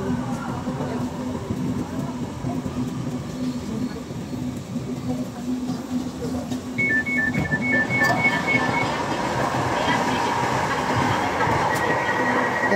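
An LRT light rail train running between stations, a loud continuous rumble and rattle of wheels on track with a steady hum and a brief high whine, while voices talk faintly inside the car.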